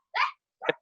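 A dog barks twice, close and sharp, with a short pause between the two barks, heard alone.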